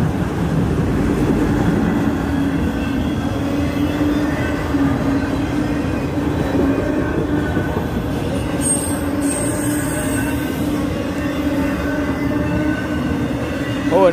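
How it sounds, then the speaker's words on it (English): A CSX autorack freight train rolls past steadily eastbound on the Old Main Line in Woodbine, Maryland, rumbling wheels and clattering cars close by, with a faint squeal of wheels near the end. "And that is an Autorack heading towards Baltimore eastbound on the old main line."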